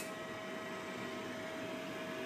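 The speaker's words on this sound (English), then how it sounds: "The sound you just heard was the sound of the recirculation fan." A recirculation fan in a Boeing 737-800 home flight simulator whirs in a steady, even drone with a faint constant tone, running alone without talk.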